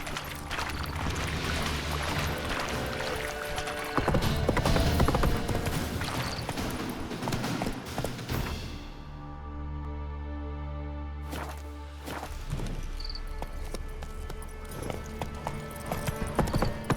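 Roach, a horse in The Witcher 3, clip-clops steadily at a trot amid game music and ambience, with a brief whinny and hoofbeats continuing under a short spoken command.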